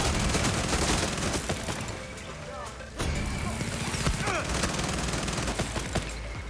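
Resolver weapon in Far Cry 6 spinning up and firing incendiary projectiles that set enemies alight, a dense, continuous crackling barrage with a brief lull near the midpoint before resuming, loud and close with game ambience underneath.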